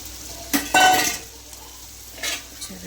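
Fenugreek and coriander leaves are stirred into a tomato chutney, giving a couple of short scraping and clinking bursts of a spoon against the pan with soft sizzling between them, close and moderately loud.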